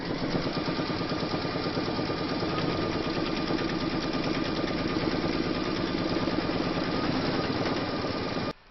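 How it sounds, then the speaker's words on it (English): An embroidery sewing machine stitches a vinyl coaster in its hoop, a loud steady rapid mechanical chatter and whir running without pause until it stops abruptly at the end. "hoop into your machine, and you're going to stitch round number 13"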